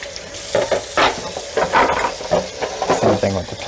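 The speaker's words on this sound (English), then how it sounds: "Give it a good rinse." A plastic PS2 Slim console part rinsed under running tap water, a steady close splashing hiss with shifting gurgles as the piece is moved through the stream.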